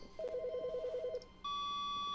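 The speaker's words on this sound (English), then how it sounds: "Oh my goodness, the phone again" An office desk phone rings in the video game The Stanley Parable. A short burst of rapid electronic trilling is followed by a steady, sustained tone, close and clear, with no talking.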